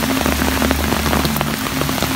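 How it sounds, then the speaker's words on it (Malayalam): Heavy rain pours steadily onto a house during monsoon flooding in Kerala, a dense, loud, close patter without pause. "4 മണി വരെ ഇപ്പോൾ കണ്ടിന്യൂസ് ആയിട്ട് ഈ ഒരു ഹൗസിൽ തന്നെ മഴ പെയ്യുന്നുണ്ട്"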